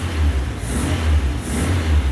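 Rough engine of an 1980s hot hatch barn find with a Porsche system, missing on one cylinder, revved up and down close by in a steady low drone with uneven pulses, no talk.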